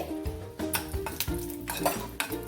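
Green chillies roasting in a spoonful of oil over a slow flame for a squid sukka, with a steady sizzle under repeated stirring scrapes and metallic pan clinks, close and fairly loud throughout.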